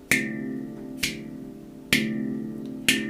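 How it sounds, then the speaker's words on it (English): Four sharp metallic slap strokes with bright, ringing decay, spaced about a second apart, struck on a handpan with nothing else heard. "we're trying to get that snap, we're trying to get that metallic sound"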